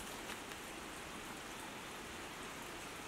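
Steady creek water flows on a homestead property, a soft continuous rushing wash with no breaks, heard alone and fairly faint.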